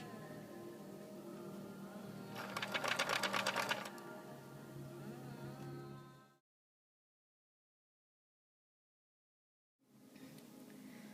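A sewing machine runs a zigzag stitch on trouser fabric at close range in one rapid, rattling burst of a little over a second, set against a steady hum. The sound cuts to silence partway through and then resumes.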